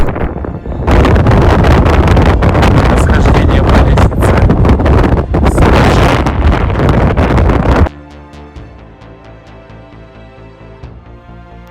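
Loud, roaring wind buffets the microphone for several seconds on a climb of 300 steps up a lighthouse in St. John's, Newfoundland, then cuts off abruptly to quieter music with a voice speaking.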